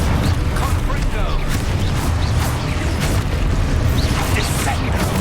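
A Confringo blasting spell goes off in the Hogwarts Legacy video game, with dense rumbling booms and crackling impacts rolling continuously through a loud, busy combat soundscape.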